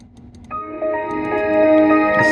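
Windows XP log off sound from a Dell Dimension computer, a short chime of sustained layered tones entering in steps and building over about two seconds, with no talking.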